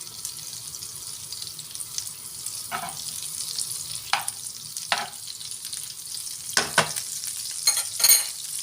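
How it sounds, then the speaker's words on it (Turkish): Butter and a little olive oil heat in a pan on lowered flame before eggs and onions go in, a steady soft crackle and sizzle with a few brief clinks or scrapes of a utensil, close and moderate, no talking. "Tereyağımız eriyene kadar yağımızı bir kızdıralım."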